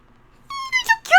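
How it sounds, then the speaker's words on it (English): A cat lets out three short, bark-like meows in quick succession after a faint lead-in, each one rising in pitch, close and clear with no other sound. "They do the bark meows, and they're so cute."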